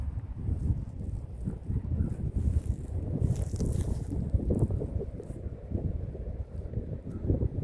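Steady outdoor wind by the Spring River in Hardy, Arkansas, rushing and buffeting the microphone, a continuous low roar with gusts swelling and fading throughout.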